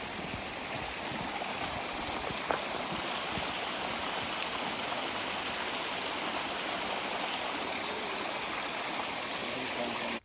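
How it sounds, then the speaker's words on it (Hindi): Clear water flows in a forest stream, a dense, constant rushing and babbling that holds steady and fairly close throughout, with one brief faint click early on. "अभी आप देखेंगे कितना क्लियर यहाँ पे पानी बह रहा है।"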